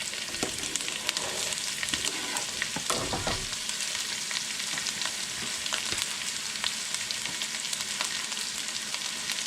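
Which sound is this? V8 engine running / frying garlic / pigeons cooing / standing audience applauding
frying garlic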